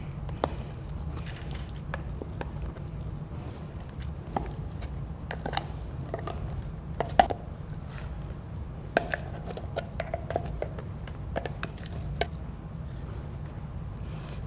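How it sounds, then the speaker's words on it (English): Thick blended bean brownie mixture being spooned into a baking pan, with soft wet squelches and scattered sharp clicks and taps of a spoon against the pan over a low steady hum. "using a fresh spoon I'm just going to spoon this into the pan"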